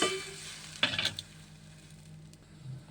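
Tamarind extract hits a hot pan with a burst of sizzling and a brief stirring scrape, then settles into a quieter, steady simmer.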